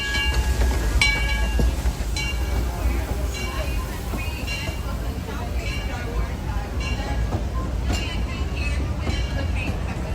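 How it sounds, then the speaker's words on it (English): The Disneyland Railroad steam train, the Ernest S. Marsh, passes close by pulling a long string of cars, with a steady rolling rumble and clatter over ten seconds. "Disneyland Railroad. What a beautiful sight."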